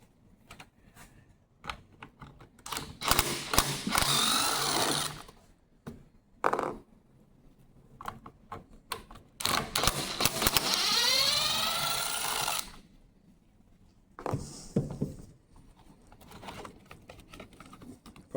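Screws being removed one after another from the engine housing of a Stihl KM 90 R combi tool, giving close, loud bursts of ratcheting, clicking and whirring work separated by short quiet gaps.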